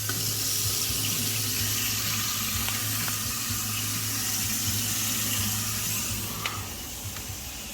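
Water runs steadily from a tap into a kitchen sink fitted with a newly installed InSinkErator garbage disposal, a constant hiss and splash close by, easing slightly near the end.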